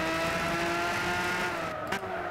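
A race car in a driving game holds a steady engine drone, running close and fairly loud, with a brief sharp transient near the end and no talk.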